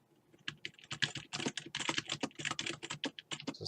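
Close, quiet typing on a computer keyboard, a rapid uneven run of key clicks with no pauses longer than a moment.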